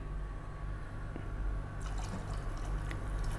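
Water trickles and splashes steadily into a cooking pot of mung bean stew, a continuous liquid pour over a low background hum.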